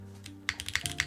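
Typing on a mechanical keyboard with MX Brown or Kailh NovelKeys switches during a Unikorn keyboard build; a quick run of crisp, close keystroke clacks after a brief quiet start.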